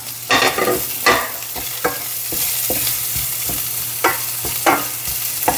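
Garlic sautés in oil in a home pan for a ground meat dish, a steady sizzle broken by repeated scraping stirs and light clinks of the spatula at an uneven rhythm.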